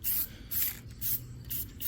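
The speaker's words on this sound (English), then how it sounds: "spray, quick sprays. Do a couple coatings of this" Short bursts from an aerosol can coat replica WWII TNT blocks for a reenactment display, four quick hissing sprays in an even rhythm, close and fairly quiet, with no talk.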